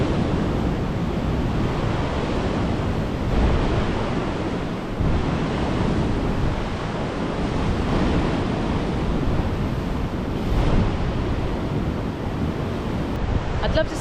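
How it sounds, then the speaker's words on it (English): Strong wind blows over the Pembrokeshire coast at Devils Bridge, a steady loud roar with buffeting on the microphone and surf mixed in, continuous throughout. "The wind is getting a bit windier."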